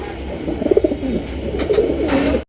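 Blue barless Lahori pigeons coo nearby in soft, throaty, repeated bursts over a low background hum, then the sound cuts off abruptly.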